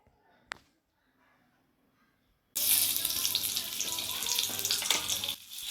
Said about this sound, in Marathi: तेल गरम झाल्यावर आपल्याला त्यामध्ये कढीपत्ता ॲड करायचा आहे